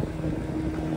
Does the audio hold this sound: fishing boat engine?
yes